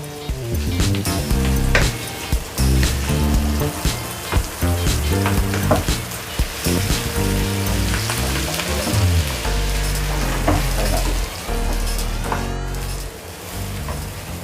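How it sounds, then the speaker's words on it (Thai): Pounded chilies stir-fry in hot oil for northern Thai nam prik ong, giving a steady, close sizzle that runs through the whole stretch, with tonal music-like sounds layered over it. "ผมเอาพริกลงเลย ที่เราตำมาเมื่อกี้ ผัดจนเขาหอมเลยนะครับ"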